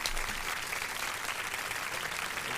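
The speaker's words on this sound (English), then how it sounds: "Everybody, please give a warm round of applause for J30, man" An audience applauds steadily to welcome the guest J30 at the start of a Brooklyn interview and freestyle show, a dense, even wash of clapping that stays level throughout with no break.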